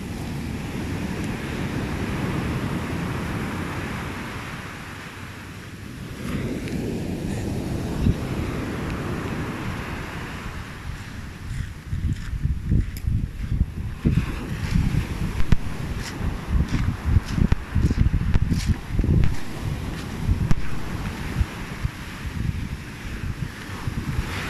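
Big ocean waves surge and break near a small boat, a steady roar of surf and rushing water mixed with heavy wind buffeting the microphone, growing choppier and more turbulent toward the end.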